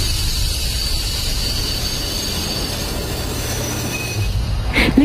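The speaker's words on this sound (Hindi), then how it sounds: "ट्रेन स्टेशन पर आकर रुकती है।" A train arrives and stops at a station in an animated sound effect. Close, continuous rolling rumble carries thin, sustained wheel-squeal tones, with a brief clank near the end.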